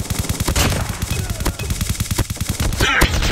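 Rapid automatic gunfire in Call of Duty Mobile, a dense string of close, loud shots fired in quick succession, with a brief sharper crack near the end.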